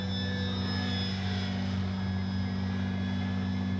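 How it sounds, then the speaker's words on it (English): An E-flite Timber SE electric RC airplane flies overhead on its second flight. The motor holds a steady, loud whine with a strong tonal hum throughout, and no one speaks. "this is the second time I've ever had this plane in the air"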